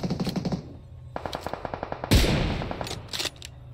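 Gunfire in PUBG Mobile: rapid bursts of automatic shots in quick rhythm, a loud heavier blast in the middle, then more short bursts, close and dominant with no talk.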